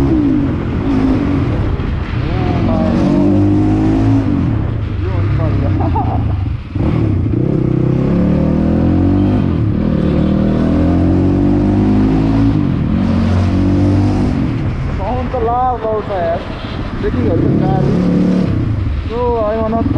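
A Crossfire XZ250 RR dirt bike in Nepal roars along while being ridden, its engine loud and close with repeated revving rises and falls, and people speaking over it at moments.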